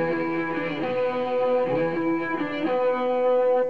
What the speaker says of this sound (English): that's just a stock distortion from the Vox.